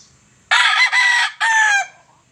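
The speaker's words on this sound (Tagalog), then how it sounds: "Tingnan nyo yung tilaok niya, pakinggan nyo." A purebred game rooster crows loud and close: a single full crow in two strong, sustained bursts, heard clearly against a quiet background.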